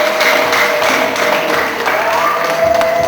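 Guests at a wedding gathering applaud in a loud, dense round of clapping that continues steadily from start to end, with faint crowd voices mixed in.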